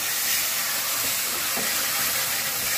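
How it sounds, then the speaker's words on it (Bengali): Spice masala frying in a pan, a steady close sizzle and hiss with faint stirring clicks, continuous and uniform with no talk. "আর মশলাটা দেখো কষে নিচ্ছি।"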